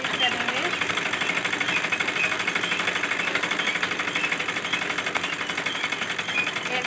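Sewing machine stitching the side seam of a baby frock, a fast rapid-fire mechanical rattle running continuously and close up with a few brief changes in pace.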